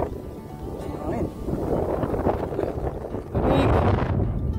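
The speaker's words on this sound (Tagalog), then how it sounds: "Sarap dito, lamig ng hangin." Cold wind gusts on a mountain summit in Ilocos Sur, buffeting the microphone with a continuous loud roar that swells near the end, with voices talking underneath.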